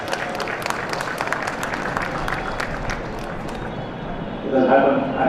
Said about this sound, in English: Big round of applause for George, everybody.